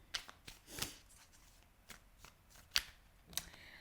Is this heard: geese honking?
no